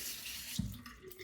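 Running tap water rinses a safety razor in a sink after a shave, a soft steady stream with a brief splash midway, faint and close.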